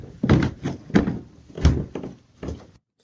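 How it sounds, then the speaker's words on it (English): A door swings shut with a loud, hollow bang, preceded and followed by a few heavy thunks and knocks in a loose rhythm, close to the microphone, then silence. "he walked in, the door closed behind him. You heard that big bang"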